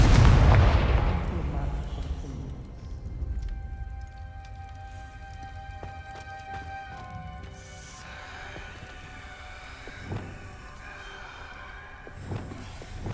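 Spell-casting explosions from the video game Hogwarts Legacy: a loud burst at the start decays into ringing magical tones and crackle, followed by a few more muffled blasts under a shout of spell names.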